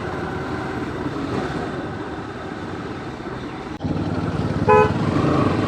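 A vehicle horn gives one short, loud toot on a busy road in Keraniganj, heard over steady traffic and engine rumble from the rider's motorbike.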